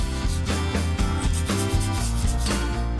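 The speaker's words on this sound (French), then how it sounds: "Pour la mise en forme, parfaire la longueur à l'aide de la lime à faux ongles." Nail file rubbing against a false nail capsule to shape its length, a close, rapid rhythmic scraping with quick back-and-forth strokes, steady and moderately loud, with no talk.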